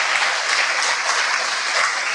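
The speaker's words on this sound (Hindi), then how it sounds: "ताली बजा दो" An audience at a Hindu spiritual retreat claps in a dense, sustained burst of applause, close and loud throughout with no talking over it.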